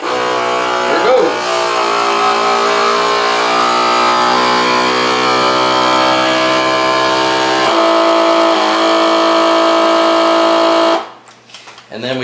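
A vacuum sealer's pump runs as a loud, steady, buzzing drone for about eleven seconds while it draws air from a food storage bag, then cuts off abruptly.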